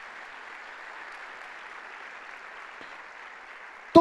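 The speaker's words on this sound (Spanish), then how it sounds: "¿qué le parece un aplauso de retribución a toda esa gente?" A church congregation at a Sunday evening service applauds in a steady, fairly faint patter of many hands, ending in a sudden loud thump at the very end.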